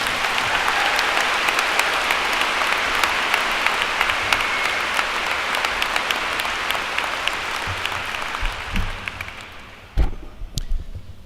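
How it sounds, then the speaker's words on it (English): A crowd at a law school commencement gives a final round of applause for the award winners, broad and continuous, thinning toward the end with a few scattered claps and thumps. "How about one last round of applause for all of our award winners?"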